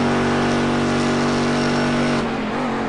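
A GT1 race car in the iRacing sim screams at high revs along the straight, its steady engine drone holding loud and close before dropping sharply as it brakes into turn 1.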